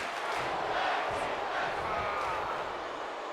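Arena crowd roaring and cheering at a tag team wrestling match in WWE 2K23, a dense, steady wash of noise with no clear breaks.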